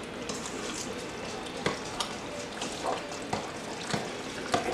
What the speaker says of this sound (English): So you just want to give it a nice, quick mix, just to incorporate all the cream of mushroom with the squash and onions.